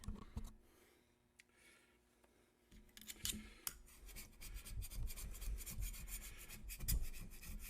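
Scrubbing and rasping on an Ingersoll Rand 2545 air compressor's low-pressure valve plate during a rebuild, close and dry, with irregular scraping strokes growing busier and louder after a quieter start.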